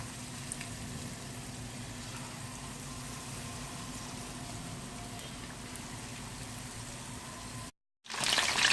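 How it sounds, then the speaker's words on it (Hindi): Large chicken pieces for sweet and sour chicken fry in a pan over low heat with a steady, even bubbling sizzle. The sound cuts out briefly near the end and then returns louder. "चिकन बहुत अच्छे से फ्राई हो चुकी है"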